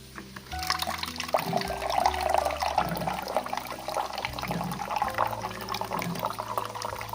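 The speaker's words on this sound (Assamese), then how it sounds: "ইয়াতে মই দিম গৰম পানী।" Hot water pours steadily into a pan of fried spices for matar paneer for several seconds, a continuous splashing rush over a low background hum.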